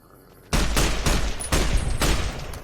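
Gunfire in Fallout: New Vegas: a loud burst of rapid shots bursts in after a quiet half-second, then repeated heavy volleys follow in quick succession, dense and close, with no talk.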